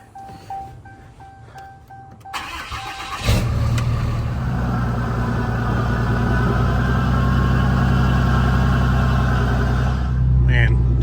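A small kit vehicle fitted with quick-change gears runs slowly in second gear, its engine settling into a steady, close, loud drone after a few seconds of quieter shuffling.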